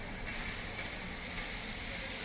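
A steady, loud hiss of water hitting a hot griddle while making amboli, continuous broadband sizzling throughout with no voices.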